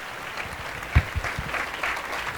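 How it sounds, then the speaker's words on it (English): A short burst of applause from a small awards-ceremony crowd, clapping fairly steadily with a few louder claps near the start. "if you can join me in welcoming onto stage with a loud round of applause, Miss Cheryl Balvani."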